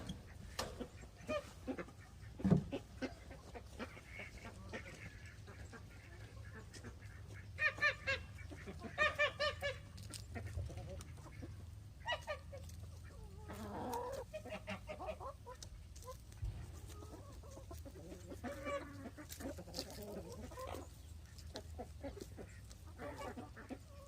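Hens in a coop cluck, squawk and honk in scattered bursts, some sharp calls standing out over a quiet, low background hum, with several birds sounding at once in places.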